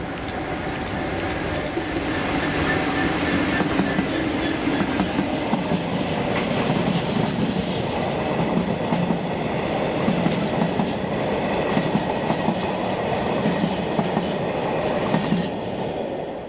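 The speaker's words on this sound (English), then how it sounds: "4D51, the early 1144 Grangemouth to Mossend empties with" A Class 66 locomotive hauls a freight train of empty wagons from Grangemouth to Mossend, rumbling steadily close by with rhythmic wheel clatter and rail noise that holds loud throughout.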